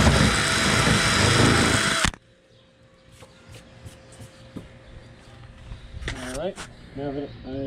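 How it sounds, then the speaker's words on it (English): A carbon fiber hood on a Honda EP3 is cut with a jigsaw, loud and close for about two seconds before it stops abruptly. Faint clicks and handling noises follow, with a few brief voices. "I'll do all the rest with the jigsaw."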